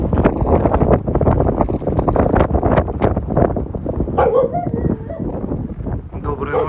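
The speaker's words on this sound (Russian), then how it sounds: "Посмотрите, какой у нас ветер. Деревья гнутся аж." Strong night wind blows steadily, near hurricane strength, with heavy gusts buffeting the microphone in a continuous roar, while someone talks over it.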